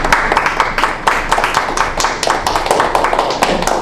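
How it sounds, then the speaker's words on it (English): A seated audience gives a round of applause at a speech club meeting, a steady stream of individual claps from a modest crowd with sharp, distinct hits throughout, fairly close and without talk over it. "Round of applause for Mickey"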